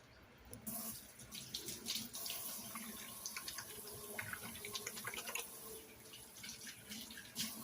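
A kitchen tap runs while hands are washed under it, irregular splashing and gushing water nearby, with a brief clatter at the start and fluctuating flow throughout.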